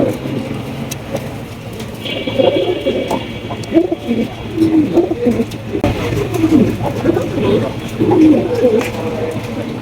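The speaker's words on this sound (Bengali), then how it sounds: "জসিম ভাই সিঙ্গেল একটা শোকিং কবুতর ভাই" Shoking pigeons coo repeatedly at close range, low throaty warbles overlapping in an irregular rhythm over a faint background hum.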